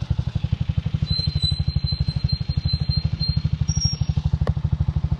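A Honda CG 125 motorcycle thumps along with a steady, rapid single-cylinder pulse, loud and close from the rider's position, with a faint whine above the engine.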